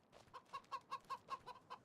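Chickens in the video game Farming Simulator 25 clucking in a quick, evenly spaced series of about eight short, nasal clucks, faint and close, with no talking.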